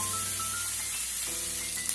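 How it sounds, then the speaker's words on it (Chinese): Lamb chops frying in a pan, a steady soft sizzle spread across the high end with a faint hum underneath; no one speaks. "煎羊排的时间要比煎牛排短很多。"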